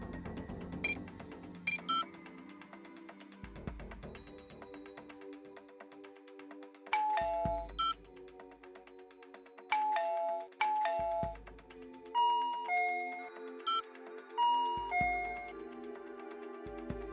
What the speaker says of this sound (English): Why does this sound like a convenience store doorbell?